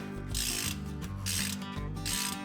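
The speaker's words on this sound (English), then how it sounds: "Go ahead and put the drain plug back in." A ratchet wrench tightening the transfer case drain plug on a Jeep Wrangler 392 Rubicon, heard as three bursts of rapid, close pawl clicking separated by brief pauses.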